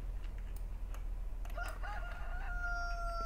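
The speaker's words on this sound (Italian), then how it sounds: "Vedete, c'è il gallo." A rooster crows in the Farming Simulator 2015 video game beside a henhouse on the Sosnovka map, one drawn-out cock-a-doodle-doo rising and then holding over a steady low hum of ambient noise.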